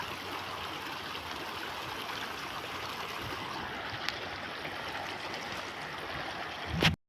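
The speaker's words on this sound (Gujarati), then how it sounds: "2 મોટરનું પાણી ચાલે છે." Water from two pump motors flowing steadily into a farm channel, a continuous nearby rushing stream with no voices, ending in a short knock.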